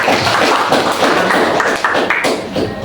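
A classroom group applauding, dense close clapping from many hands, loud and continuous for about three seconds.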